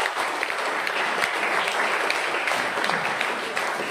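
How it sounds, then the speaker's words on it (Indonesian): A school audience applauds a teacher, and the clapping is loud, dense and continuous, holding at an even level throughout with no voices above it. "Tepuk tangan untuk Cikgu Capitul."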